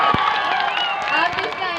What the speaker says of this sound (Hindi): आप लोग एक ताली बजाइए ना पहले।